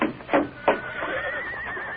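A horse whinnies in front of a cafe in a Western radio drama, a few quick nickering snorts followed by a long wavering neigh, close and clear, with no talking.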